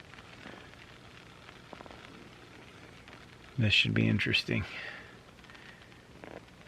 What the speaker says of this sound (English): And it started raining.